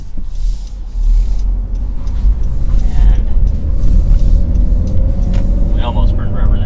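A 2012 Honda Civic Hybrid speeding up in sport mode on a street: loud low road and engine rumble builds over the whole stretch, and someone talks over it throughout.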